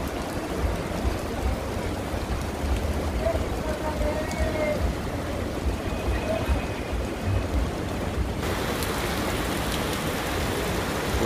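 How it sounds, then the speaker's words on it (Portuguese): Heavy rain pours down steadily in the town centre of Santana do Ipanema, Alagoas, Brazil, a dense continuous hiss of drops drumming on surfaces throughout. "Muita chuva mesmo"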